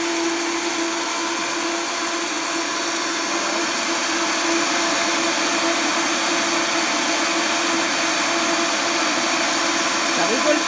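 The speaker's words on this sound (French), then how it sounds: "c'est un robot très puissant" A powerful high-speed blender runs continuously while making a hemp milk and chlorella smoothie, a loud steady whirring roar filling the whole stretch, with talk over it.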